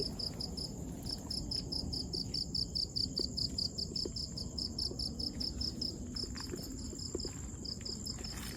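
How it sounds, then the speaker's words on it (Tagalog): Steady, rapid cricket chirping pulses on and on in an even rhythm over a low outdoor background hum in a cemetery, with no voices. "Kuliglig ba tawag yan?"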